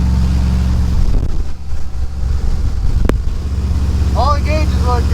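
An inexpensive used speed boat's outboard engine running and misfiring, a loud rough motor drone with wind buffeting the microphone, a sharp click midway and a few faint chirps near the end.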